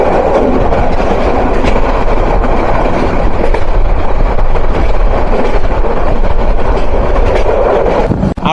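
The Kishoreganj Express intercity train runs steadily through a station in Bangladesh: a loud, continuous rumble of wheels and carriages with faint clickety-clack, heard alone without voices.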